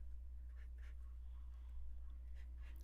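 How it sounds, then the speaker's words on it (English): A silver pen marks black material for a Dollar Tree treat ornament box, with faint, scratchy pen strokes coming in short bursts over a steady low hum. "I'll use a silver pen to mark this black because it can be hard to see"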